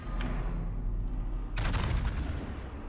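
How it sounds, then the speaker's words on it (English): Battleship Ohio firing its main guns in World of Warships, a loud close boom of heavy gunfire with a long rumbling tail over continuous low engine drone. "I think the Ohio shoot me pretty nicely here."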